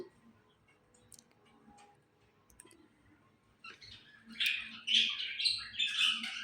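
A bad-tempered pet lovebird kept in a room gives several harsh, high squawks that grow loud toward the end, after quieter clicks and light ticking noises.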